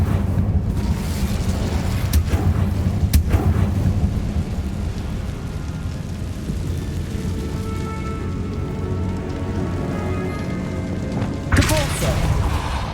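An Incendio fire spell roars out during Hogwarts Legacy combat, a loud sustained rumbling whoosh with a couple of sharp cracks, layered under game music and effects.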